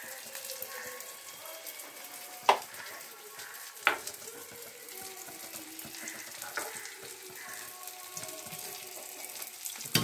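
Spice paste for a fish curry sizzles steadily in a hot pan, a continuous close frying hiss with two sharp clacks of a utensil against the pan.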